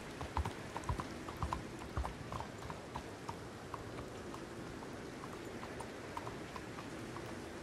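Horse hooves clip-clop in Red Dead Redemption 2, a steady walking rhythm of light hoofbeats over a soft, rain-like background hiss, without talk.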